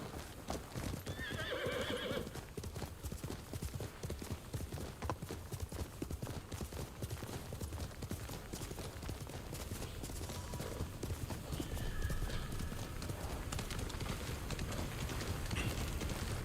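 A horse gallops in the samurai video game Ghost of Tsushima, with steady clip-clop hoofbeats, a couple of neighs and whinnies, and continuous game ambience all the way through.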